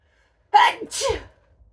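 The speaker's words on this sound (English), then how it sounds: "We had a sneeze." A single sharp sneeze bursts out close by after a moment of silence, followed by a brief breathy exhale.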